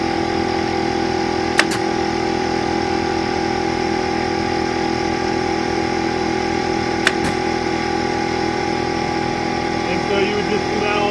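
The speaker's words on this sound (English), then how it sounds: "You can hear that compressor going, right?" Air compressor for a brad nailer runs in a steady, loud mechanical drone throughout, with two sharp brief clicks or snaps breaking through partway.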